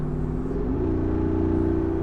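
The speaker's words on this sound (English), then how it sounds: "with that amazing exhaust note out back" A 2024 Jeep Wrangler Rubicon 392 V8's deep, throaty engine idles and rises slightly in pitch, a steady loud exhaust rumble with no voices over it.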